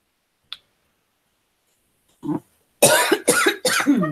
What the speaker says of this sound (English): and then nothing until you coughed